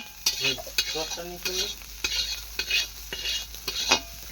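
Carrots sizzle in a pan while a utensil stirs them in quick, repeated scraping strokes, close and clear with no talking.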